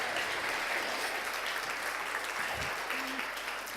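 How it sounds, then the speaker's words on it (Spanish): A church congregation claps steadily and densely for several seconds after a sermon, a continuous wash of applause filling the room without pause. "Demos un aplauso a Jesús por todas estas verdades."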